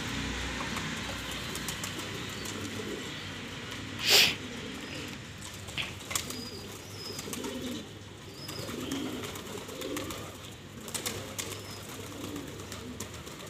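Pigeons and young squabs coo softly and steadily in a loft, with scattered light calls and one brief sharp knock early on, all at a low, even level.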